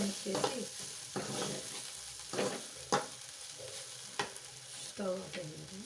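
Ivy gourd fry with curry leaves stirred in a pan, a spoon scraping in bursts about once a second over a steady soft sizzle, close and alone.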